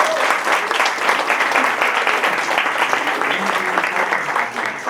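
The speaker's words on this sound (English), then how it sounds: "Give Steve Kantor a great hand if you will." An audience applauds Steve Kantor with dense, continuous clapping that holds at an even level throughout, loud and close.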